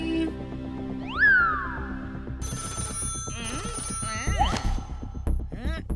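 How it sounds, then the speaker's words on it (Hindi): A cartoon telephone rings with a bright, repeated electronic trill, close and loud, layered over music and sweeping sound effects in an animated Indian children's show. "जूते में फोन कॉल।"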